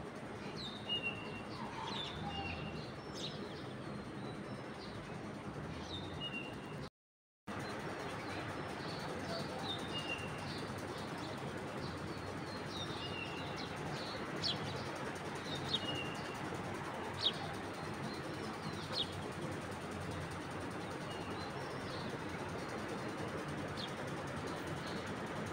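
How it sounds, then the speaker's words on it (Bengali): Birds chirping and pigeons cooing around 5:20 at dawn, scattered calls heard at a distance over a constant low ambient hiss, with a brief dropout of total silence partway through. "পাখির আওয়াজগুলো শুনতে ভীষণ ভালো লাগছে"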